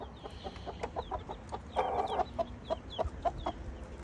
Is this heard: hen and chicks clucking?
yes